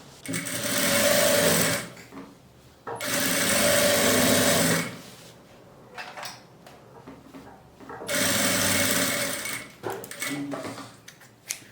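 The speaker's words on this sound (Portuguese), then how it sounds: "E agora eu passo uma costura reta com um pezinho de máquina." Sewing machine running a straight stitch through lining fabric with a presser foot, three loud bursts of steady motor whirring separated by pauses with light handling noises.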